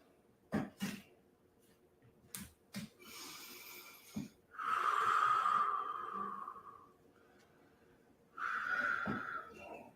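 Two long, loud breaths drawn in and let out slowly during a workout on hands and knees, each lasting a couple of seconds, with a few brief sniffs and thumps between them.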